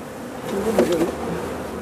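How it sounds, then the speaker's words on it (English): Honey bees buzz at a hive, a steady close drone of wing beats rising briefly in the middle, with no voices. "Their wing beats fan the hive to keep it cool and ventilated."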